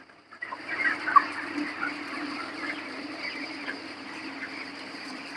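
Soft, low clucking from many chickens on a poultry farm blends into a faint constant murmur, with a steady background hum and occasional brief clicks.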